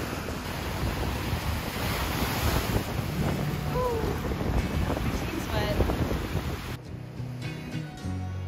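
Waves from Lake Michigan wash steadily onto the shore at Indiana Dunes, a broad continuous surf roar mixed with heavy wind buffeting the microphone.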